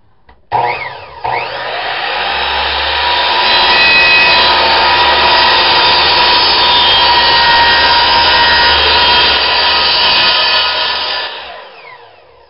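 A power saw cuts an octagon roof panel, winding up quickly into a loud, steady high whine held close by for about ten seconds before it spins down.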